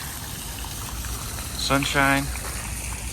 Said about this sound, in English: We've got a water fountain